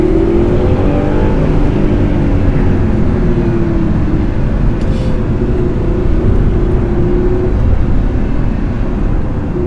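A 24,000 km Audi R8 supercar's engine revs loudly in sport mode, close and continuous, its dense roar climbing and holding steady throughout with no voices.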